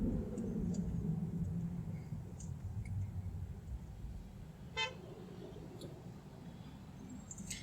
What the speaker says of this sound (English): we got a honk from the Audi